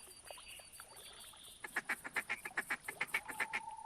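Duck feeding calls from a short-range caller in theHunter Classic at Rougarou Bayou, a fast, rhythmic series of close chattering quacks that grows louder after a quieter start, with no talking.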